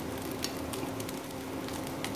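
Vegetables for chicken fried rice sizzle steadily in a hot pan, a soft continuous frying hiss with a few light crackles and pops, no voices.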